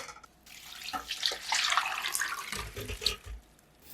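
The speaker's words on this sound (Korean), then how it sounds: "물에 두세 번 흔들어 씻은 다음 물기를 빼주세요." Broccoli is swirled and shaken in a bowl of water, giving splashy sloshing and running-water sounds that build and continue for a few seconds, close up with no voices.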